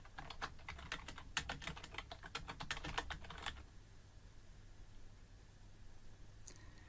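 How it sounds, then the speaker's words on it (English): Brisk bursts of keystrokes on a computer keyboard clatter for about three and a half seconds, then stop, leaving a quiet room with one faint click near the end; no one speaks. "I'm going to type a little bit as though this is my piece of work that I want to reference."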